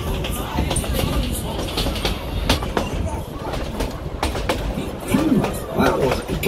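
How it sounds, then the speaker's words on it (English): A passenger train pulled by a coal-fired Baldwin steam locomotive rolls along with steady clickety-clack of wheels on rail joints and brief wheel squeals, heard from aboard the cars while people talk nearby. "our train is being pulled by a genuine coal-fired steam locomotive"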